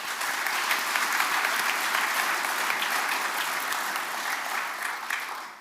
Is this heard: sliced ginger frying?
no